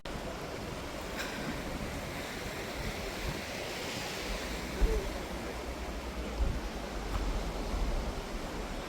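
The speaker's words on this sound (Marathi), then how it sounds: "आज अथांग पसरलेला समुद्र भारी दिसतोय" Sea surf rolling in along the Konkan coast beside Kunkeshwar temple, a steady broad wash of waves with wind, moderately distant and continuous, no voices.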